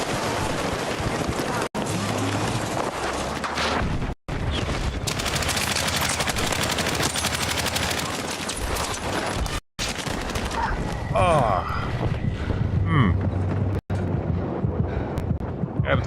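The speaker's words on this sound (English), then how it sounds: "Yeah, with the shotgun again." In the PUBG video game, loud shotgun blasts and other gunfire crack through a continuous noisy battle soundscape, with a person talking over parts of it.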